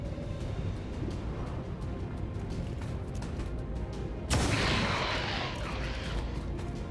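A pistol fires once in the tactical video game XCOM 2 War of the Chosen. A sharp, loud report cuts through the low game ambience partway through, followed by a sustained noisy tail.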